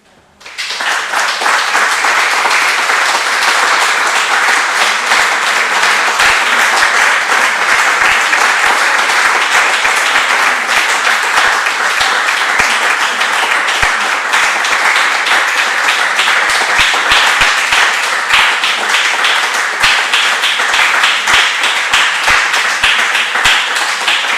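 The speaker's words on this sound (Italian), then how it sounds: "Grazie anche a Chiara, un applauso" An audience at an Italian talk on adventure and the pursuit of happiness breaks into loud, sustained applause, dense clapping that continues steadily for over twenty seconds with no voices over it.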